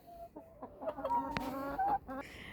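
Backyard chickens kept beside a semi-dwarf tree in a home garden cluck in short, repeated calls, close and moderately loud, with a few clipped notes and a brief burst of a longer harmonic call near the end.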